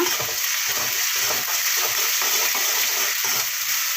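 Onion with ginger-garlic paste and salt sautés in a hot pan, giving off a steady, close, continuous sizzle with faint stirring scrapes throughout.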